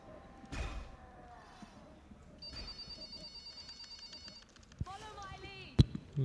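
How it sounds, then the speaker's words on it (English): Office-phone-like ringing in the video game Dragon Age 2, a trilling electronic ring pulsing for a couple of seconds amid scattered game sounds and a sharp knock. "I still maintain that sounds like an office phone."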